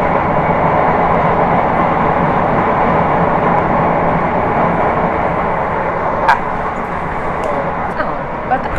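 A loud, steady rumble of a train in motion heard from inside a carriage on the Sekondi to Takoradi line in Ghana, with a faint click and rattle now and then.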